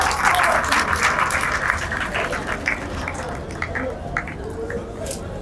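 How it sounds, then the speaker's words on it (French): An audience applauds the teams at a university tournament match, the third game of the Tchèbô Universitaire: steady, dense clapping runs throughout while a voice talks over it. "Chers auditoires, veuillez les applaudir"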